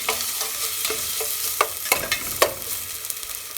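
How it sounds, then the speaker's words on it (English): Finely chopped onion frying lightly in a pan, a steady soft sizzle broken by several sharp clinks and scrapes of a spoon stirring, fairly close and with no talking. "Then I'm using this finely chopped onion. Let's fry it for a while."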